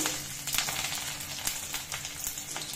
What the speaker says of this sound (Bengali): ওই একই তেলে দিয়ে দেব রসুন